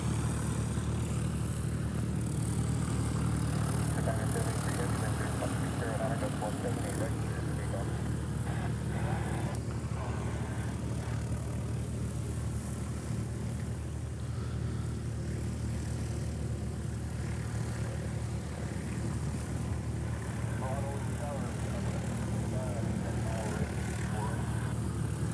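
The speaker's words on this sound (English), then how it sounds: "So if you're wondering what's making all that noise over here, it's actually this plane right here." A Japan Airlines jet readies for departure at Honolulu airport, its engines giving a steady, loud droning roar that runs the whole time with no pauses.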